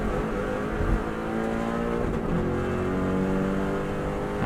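A 2014 Subaru WRX STI engine held at full throttle on the Isle of Man TT course, a loud, sustained in-car roar with steady high revs and faint road bumps, no talking.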